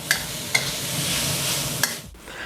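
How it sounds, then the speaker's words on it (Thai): Minced pork and holy basil stir-fried in a pan give a steady close sizzle, broken by a few sharp spatula scrapes against the metal, with no voices. "ผัดจนใบกะเพราสุกก่อนนะครับ"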